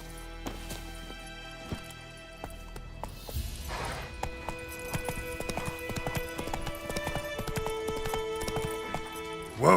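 The horse Roach gallops in a video game, a rapid run of clip-clopping hooves that grows busier and louder as the ride goes on, with game music and sound effects around it.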